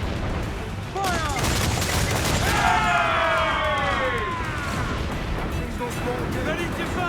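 Ship cannons firing in an Assassin's Creed naval battle, loud booming volleys and crashing impacts with whistling debris, under shouted crew voices.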